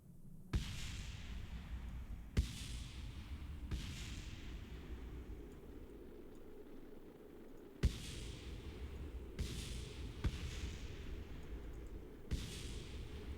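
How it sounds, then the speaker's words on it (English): Explosions from a Kerbal Space Program rocket game, as a series of about eight sharp blasts spaced irregularly, each with a decaying rumble, over a steady low engine roar, with no voices. "Nice explosions."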